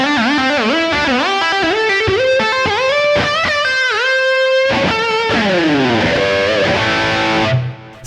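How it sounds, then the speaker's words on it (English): An electric guitar with a whammy bar plays the DOOP technique: distorted notes dive and scoop in pitch repeatedly, wobbling and bending downward in quick bursts before a final falling glide, loud and solo. "another cool whammy bar technique called the DOOP"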